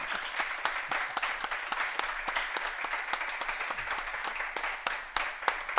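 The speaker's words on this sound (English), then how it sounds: "So let's give him a round of applause to say thank you very much." Audience applause thanking a speaker at the close of a talk, a steady wash of many hands clapping with sharp individual claps standing out, sustained evenly throughout.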